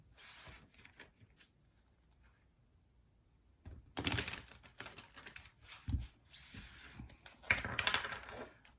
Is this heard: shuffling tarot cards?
yes